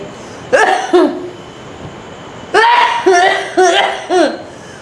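Two bouts of harsh, raspy coughing, the second a rapid string of four or five coughs, close and loud over a quiet background.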